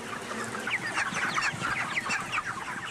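A coop full of chickens raised for a drinking-water comparison cluck continuously in overlapping busy chatter, with many birds close and lively.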